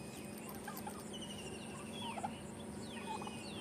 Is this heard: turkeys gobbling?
yes